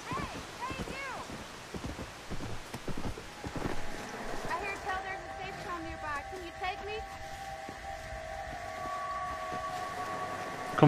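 Rhythmic hoofbeats of a galloping horse in the game Undead Nightmare, heard with game sound effects and a sustained siren-like tone; a person talks over it.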